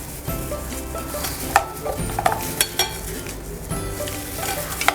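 Spice masala and salt are mixed into an okra batter in a bowl, with repeated wet slapping and scraping strokes and a few sharp clinks of the utensil against the side, close and moderately loud, no talking.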